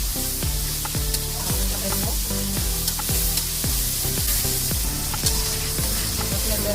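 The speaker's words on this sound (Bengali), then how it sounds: "মশলাটা ভালো করে কষায় নেবেন" Onion, ginger and garlic spice paste fries in a pan with a steady sizzle, broken by regular scraping stirs and a tonal musical backing throughout.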